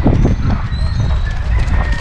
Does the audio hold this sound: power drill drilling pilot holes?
no